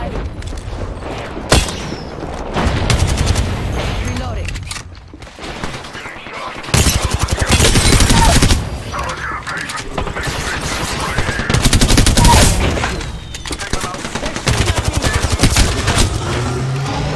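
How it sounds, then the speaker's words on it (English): Loud gunfire in the Apex Legends video game: sustained automatic bursts and rapid volleys of shots with booming impacts, nearly continuous throughout. "They're shooting at me!"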